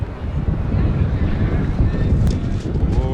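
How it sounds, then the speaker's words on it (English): Strong, steady wind gusts buffet the open broadcast booth at a Diamondbacks–Nationals baseball game, a dense low roar rushing across the microphone without letup for the whole stretch. "It's gusting up here."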